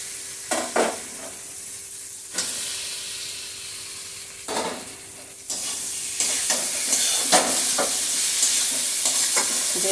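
Potatoes added to a pan for an egg curry with whole spices, frying with a steady sizzle that grows louder, broken by repeated scraping stirs; no talking.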